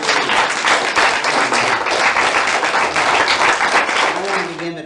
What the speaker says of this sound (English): Let's give it our applause.